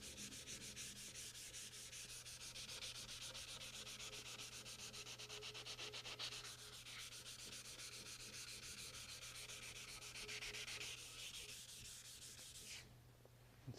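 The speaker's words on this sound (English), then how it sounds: "down here you want to sand right up to the edge using the flat of your hand and your fingers" Rhythmic hand sanding on a part of a Delta Unisaw table saw during restoration, a close, steady back-and-forth rasp of abrasive on the workpiece with no talking.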